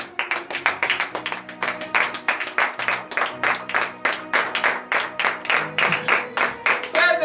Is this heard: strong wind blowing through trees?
no